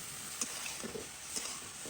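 Vegetables frying with a little ginger garlic paste, a soft low sizzle with a couple of quick stirring scrapes, faint and close.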